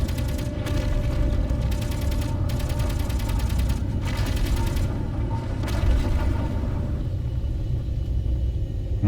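Weapons fire at asteroids in the video game Space Engineers: rapid automatic bursts rattle over a deep rumble in several long strings, then break off, leaving only the low drone.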